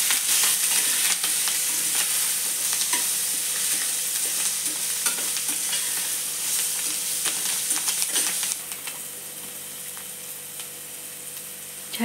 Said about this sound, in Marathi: चांगलं असं फिरून घेऊ।